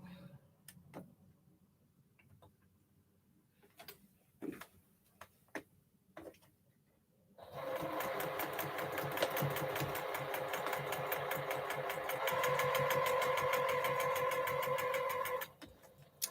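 A sewing machine stitches quilt fabric for a quilt top, with scattered clicks and handling sounds first, then a steady rapid rhythmic chatter running for about eight seconds before stopping.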